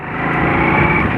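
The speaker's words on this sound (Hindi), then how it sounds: "ये भाई हमने बाइक स्टार्ट की, पहला गियर, दूसरा गियर" A bike engine runs steadily and close, with a brief rise in pitch as it pulls through a gear change; no voices.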